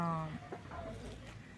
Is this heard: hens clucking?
yes